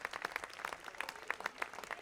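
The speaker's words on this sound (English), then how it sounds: "I really want to give you all a round of applause for coming out" Light, thin applause from a small crowd at an outdoor amphitheater concert, a steady patter of distant handclaps that stays faint throughout.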